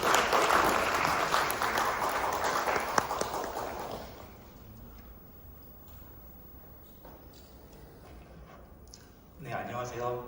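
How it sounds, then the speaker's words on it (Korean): Loud applause from a large audience at a conference on rural revitalization fills the first four seconds, then fades to a quiet room with murmuring and a brief voice near the end. "여러분 뜨거운 박수로 환영해 주시기 바랍니다"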